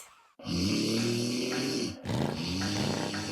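Loud nighttime snoring in a Korean TV commercial for a smart motion pillow, two long rasping, throaty snores close up, the first drawn out over more than a second and the second following right after.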